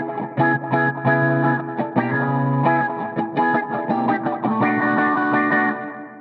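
An electric guitar runs through a PolyEffects Beebo multi-effects pedal with a filter effect, its loud strummed chords swirling with modulation, echo and reverb in a continuous, shimmering wash.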